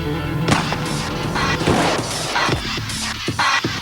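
Several loud, sharp bangs crack out in an irregular burst, with crashing and rumbling between them and no talking.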